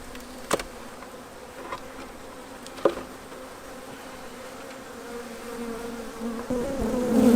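Honeybees drone around an open hive in a continuous close buzz, with a few brief clicks and knocks, the humming swelling louder near the end.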